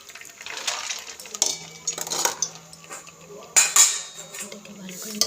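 Rice and fried nuts being stirred in a cooking pot for khichuri, with scraping and clinking of a utensil against the metal in irregular bursts, close and moderately loud, with no voice.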